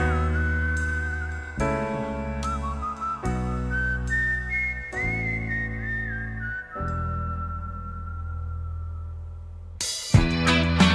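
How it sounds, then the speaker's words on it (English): A lone, wavering whistled melody floats over sustained chords and a slow, moody, somewhat jazzy accompaniment in a Billy Joel song, ending with a sudden louder burst of instruments. "Haunting whistling."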